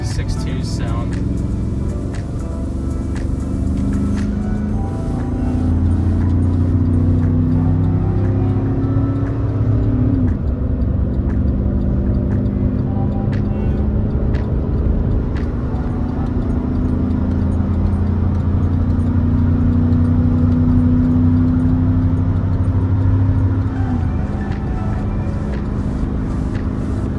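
A tow rig truck with a 6.2 engine cruises on the interstate, a loud, steady low engine drone and road rumble with shifting tones as it holds speed, someone talking over it.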